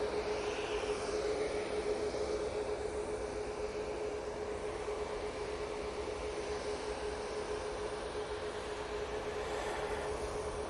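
A Virgin Atlantic airliner at Manchester Airport gives off a steady, broad engine roar with a sustained tonal whine, holding at an even level throughout without any voices.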